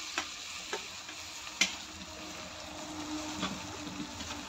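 Okra dropped into hot oil with browned green chillies, sizzling steadily with a few sharp clatters and stirring knocks, close up and with no talk.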